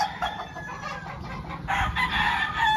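A Wine Red Claret gamefowl chicken clucks at close range in a farm conditioning area, giving several short calls over faint background noise.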